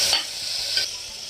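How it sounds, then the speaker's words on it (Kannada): Onions and cashews frying in ghee in a pan for ghee rice, a brief, close, steady hissing sizzle with light stirring. "ಇವಾಗ ಈರುಳ್ಳಿ ಲೈಟ್ ಬ್ರೌನ್ ಬರೋವರೆಗೂ ಚೆನ್ನಾಗಿ ಫ್ರೈ ಮಾಡ್ಕೊಳ್ಳಿ."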